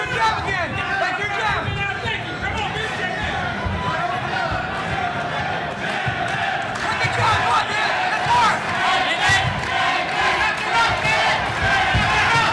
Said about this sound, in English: the crowd's definitely getting into it now